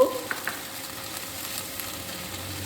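Ginger paste frying in hot oil for pakora jhal, a faint steady sizzle with a few light knocks near the start, quiet and close, no talking.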